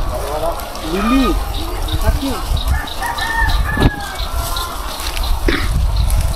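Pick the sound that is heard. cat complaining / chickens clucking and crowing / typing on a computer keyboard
chickens clucking and crowing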